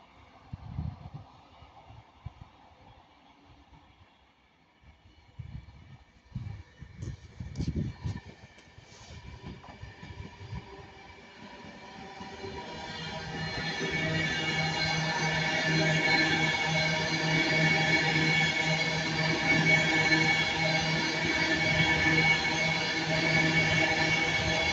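Class 156 unit 156418 passes at Ardwick bound for Hazel Grove, starting as quiet low rumbles and clatter, then building after about twelve seconds into a loud, steady, close-by roar with a sustained hum as it runs past.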